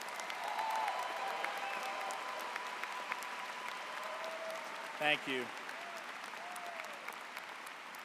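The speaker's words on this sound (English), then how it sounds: "How about a loud applause for your parents, families, and loved ones?" A large crowd applauds loudly at a university engineering graduation ceremony, honoring parents, families and loved ones; the clapping is continuous and sustained, and a brief spoken phrase cuts in midway.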